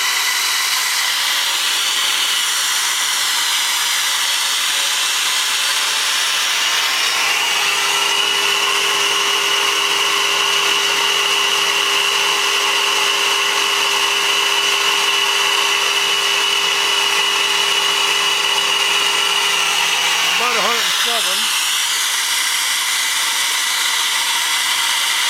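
Cylinder head flowbench motors roar steadily and loudly throughout, with a second motor spinning up partway through to raise the pitch and a faint whine, then winding back down near the end.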